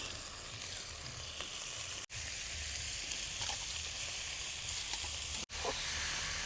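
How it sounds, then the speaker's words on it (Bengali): Cabbage fries in a pan with a constant bright hiss and occasional light stirring sounds. The sizzling is interrupted by two sudden, momentary dropouts. "এখন বাঁধাকপিটা দিয়ে দিব।"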